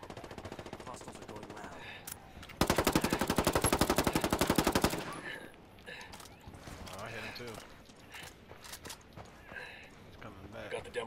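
Loud, sustained burst of rapid automatic gunfire in Ghost Recon Wildlands lasting about two seconds, with a steady machine-gun rhythm, set among quieter battlefield game noise before and after.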